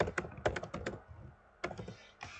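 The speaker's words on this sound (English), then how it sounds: "So we're going to type in here object detected." Quick clicking keystrokes on a computer keyboard, heard close and alone: a fast burst of taps, a brief pause, then a few more presses.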